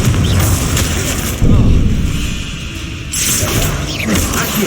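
Confringo spell blasts in Hogwarts Legacy, a loud booming burst near the start and another toward the end over a dense wash of game noise and music, with speech mixed in.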